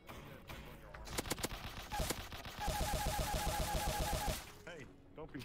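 Rapid bursts of automatic gunfire in a VR shooter game crackle in quick repeated volleys, building into a sustained loud stretch of rapid fire before trailing off, with a few shouted game sounds mixed in.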